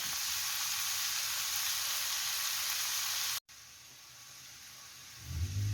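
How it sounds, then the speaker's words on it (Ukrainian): Meat, unsalted, frying in a pan with garlic and dill for potato-and-meat noodle dumplings, a steady loud sizzle that briefly cuts out, then continues more quietly as something is stirred. "Підсмажуємо все разом, не солим, щоб м'ясо не було жорстким, а було м'ягеньким"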